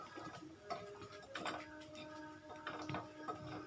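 Light metallic clinks and taps of appam being lifted from the appe pan onto a plate, a few soft scattered knocks close by with quiet kitchen background.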